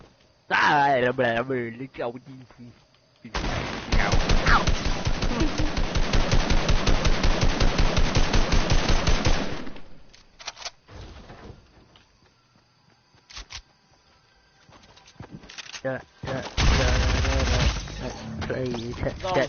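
Rapid automatic gunfire from a Fortnite match crackles in a long, dense burst of evenly spaced shots, with shorter bursts later, while a player talks over the first and last stretches.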